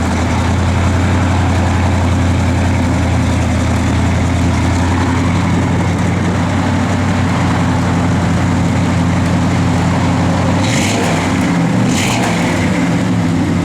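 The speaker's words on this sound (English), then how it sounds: "good sounding motor" A 1967 Oldsmobile 442 V8 idles steadily, a loud close low rumble with an even lopey pulse throughout and a couple of brief sharper bursts near the end, no talking.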